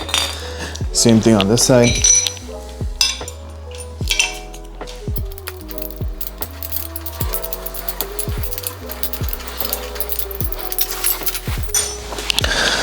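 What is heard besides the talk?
removing bolts from Sur Ron foot pegs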